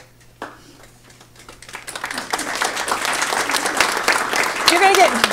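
Clapping at a school board meeting starts with a few scattered hands and swells into full, steady applause from the room as a student named Mackenzie comes forward, with voices briefly audible over it.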